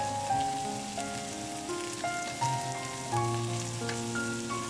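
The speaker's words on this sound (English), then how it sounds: "Then we add in cucumber slices. Stir fry a little bit." Cucumber slices and shrimp stir-fried in a hot wok with salt give a steady, close, even sizzle that holds across the whole stretch, with no voices over it.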